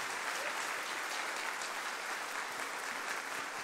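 A congregation at an evangelical church service claps together in praise, a dense, even roar of many hands sustained throughout, fairly distant and unbroken, with no speech on top.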